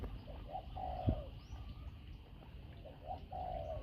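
Doves behind a house give two soft, rounded coo phrases, a few seconds apart. Each one is close and clear over a faint outdoor background, and a brief knock sounds between them.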